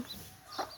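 Hens clucking while fighting over food, two short close bursts of clucking with a quieter pause between them.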